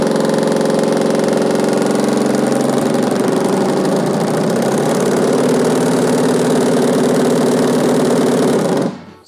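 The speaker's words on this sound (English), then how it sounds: "you'll see that the vibrating motor does work" The vibrating motor of an industrial pre-roll cone packer runs at full strength as a loud, steady, buzzing drone for about nine seconds, then cuts off abruptly at the end with no voices.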